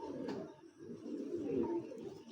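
A pigeon gives a soft, low coo close by, a short rolling call in an otherwise quiet setting.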